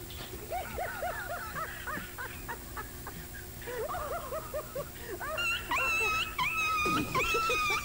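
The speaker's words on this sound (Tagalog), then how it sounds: "galit na aso, o naiyak na, gutom na" A hungry dog whines and whimpers in quick high-pitched cries that come in bunches, rising to longer wailing moans toward the end, close and fairly loud with some voices around it.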